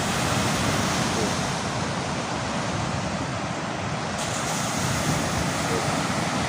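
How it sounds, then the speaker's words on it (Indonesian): High ocean waves roll in on a foggy beach, a dense, continuous roar of surf with wind rumbling close against the microphone, steady and loud throughout. "Tinggi banget ini ombaknya teman-teman."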